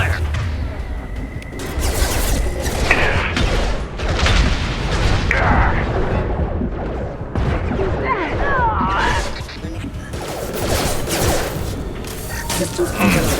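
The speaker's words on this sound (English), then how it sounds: "Taking heavy fire!" Heavy gunfire and booming explosions in Mass Effect 2, a dense, continuous clatter of shots, impacts and blasts with voices shouting over the chaos.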